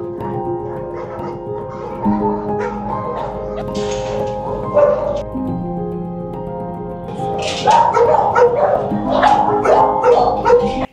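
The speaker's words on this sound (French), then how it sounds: "là nous sommes au chenil, vous venez de nourrir les chiens" Military working dogs in an army kennel bark and yip continuously, several animals close by with excited overlapping barks that grow louder toward the end.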